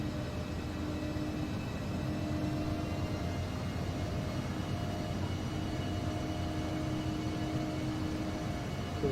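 Engines of an Embraer 145 regional jet in a flight simulator, a steady whining drone with constant tonal hum, even in loudness throughout rather than clearly ramping up.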